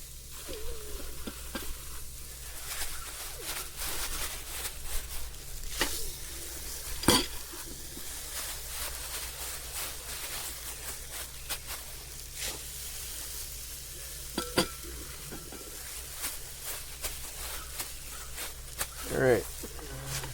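Palm-sized burgers sizzle on an outdoor grill, a soft continuous frying hiss with occasional sharp clicks and pops, while someone talks quietly over it.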